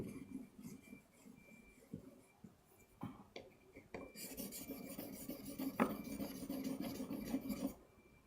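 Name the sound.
sharpening a pencil tip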